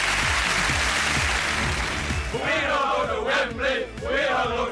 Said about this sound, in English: Give a big round of applause, everyone, the Golden Oldies!